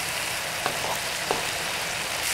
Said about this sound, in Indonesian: Kita tumis dulu ya sampai mateng bumbunya.